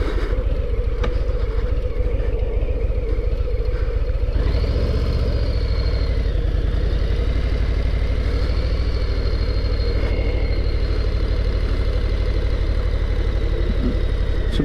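A Harley-Davidson Low Rider S motorcycle engine idles on a warm day, a loud, continuous low rumble that holds steady throughout with no talk over it.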